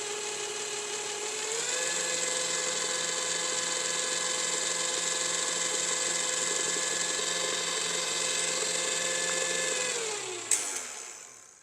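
An electric mixer whips royal icing made with meringue powder, giving a steady high motor whine that rises slightly in pitch after a couple of seconds, holds evenly, then winds down and stops with a clunk.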